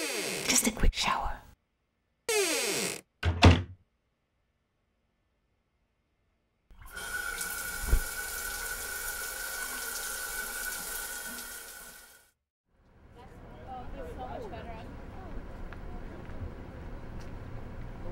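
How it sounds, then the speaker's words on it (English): Water runs steadily from a shower for several seconds, loud and hissing, after a few brief bursts of other noise and a pause, then a quieter watery background follows. "Just a quick shower."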